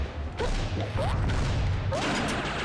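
Grenades explode in the Alien Hominid video game as a series of sharp crashing, whooshing hits, with several distinct impacts spread across a loud, busy stretch of game noise.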